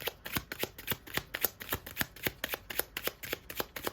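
A small deck of oracle cards is shuffled in a quick, steady run of crisp riffling flicks, close and fairly quiet, with no talking.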